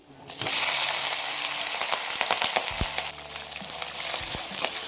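Asafoetida and capsicum hitting hot oil in a pan: a loud sizzle flares up at once, then settles into a steady frying hiss with a few stirring clinks and scrapes, and no talking.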